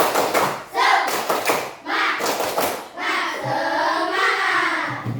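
Classroom spirit clap (tepuk semangat) in an Islamic religious education lesson: rhythmic group hand claps mixed with children's chanting voices, close and fairly loud, running through the whole short stretch.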